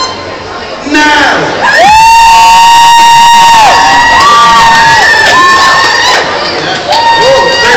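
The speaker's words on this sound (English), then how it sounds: "I would like you to cheer" A live audience cheers and whoops for a dance-off contestant, with loud, sustained shouting and high-pitched screams close by that swell after a quieter start.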